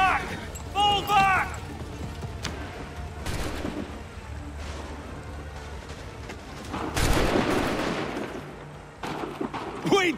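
Musket volley fire in the Assassin's Creed 3 video game, scattered booming shots and a louder burst later on, mixed with battlefield noise, horse sounds and shouting voices.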